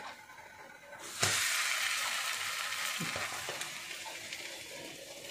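Tomatoes coated in Italian herbs and spices, egg and cornmeal are laid into a pan and sizzle; loud, steady frying hiss starts abruptly a little over a second in and continues with small bursts.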